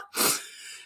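One sharp, close sneeze gives a quick explosive burst and then trails off into a breathy tail.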